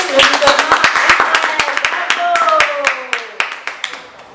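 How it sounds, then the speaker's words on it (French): Rhythmic group clapping at a Bible quiz, steady beats keeping time at a moderate pace, close and fairly loud, with people's voices and a few sung or called-out notes running over it. "Nous pouvons l'applaudir."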